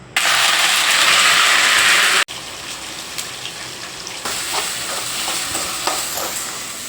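Spices frying in hot oil in a kadai on the stove make a loud, steady sizzle that cuts off abruptly, then gives way to a softer continuous frying hiss with faint stirring clicks, and no one speaks.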